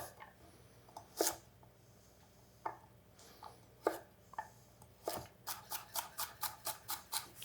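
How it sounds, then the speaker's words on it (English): Knife chopping carrots on a cutting board in a home kitchen, scattered single chops early on, then a steady run of evenly spaced close, crisp strikes toward the end, with no talk. "so we're gonna chop up some carrots."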